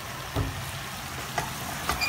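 Beef carbonara sauce with white wine stirred in a hot pan: a constant soft sizzle with a few brief spoon scrapes, close and without talk.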